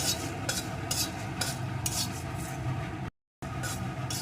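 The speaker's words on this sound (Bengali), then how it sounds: "গোটা জিরে এখন এগুলোকে ভেজে নেব" Whole cumin seeds dry-roasting in a pan, stirred with a spatula in rhythmic rasping scrapes about twice a second, close and fairly quiet, broken by a brief gap of silence near the end.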